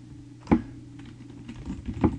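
Text is typed on a computer keyboard in Visual Studio as a few scattered, close key clicks. There are two sharper taps among softer presses over a quiet room hum.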